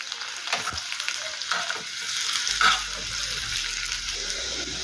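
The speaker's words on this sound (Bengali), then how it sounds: "রসুনটা একটু হালকা লাল করে ভেজে নেব।" Chopped garlic fries in ghee with hing and whole cumin in a pan, a soft, steady sizzle with a few stirring scrapes and clinks, close but fairly quiet, with no talk.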